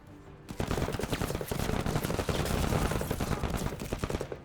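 Rapid arc rifle gunfire from the tactical video game Menace, fired at saboteurs, starts abruptly after a half-second of quiet and keeps up as a loud, dense stream of crackling shots to the end.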